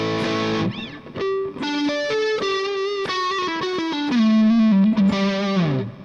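Electric guitar playing a melodic lead line with sustained, bending notes through a Hotone mini amp with a 4x12 cabinet impulse response and a little hall reverb, a slightly overdriven, mid-heavy tone played alone and up close.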